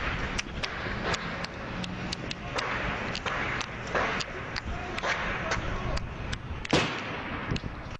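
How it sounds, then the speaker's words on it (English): Multiple gunshots ring out on the Virginia Tech campus near the Norris Hall classroom building, a long series of sharp, distant cracks in irregular rhythm over a noisy outdoor background with some faint voices. "Multiple gunshots recorded by student eye reporter Jamal Al-Barghouti"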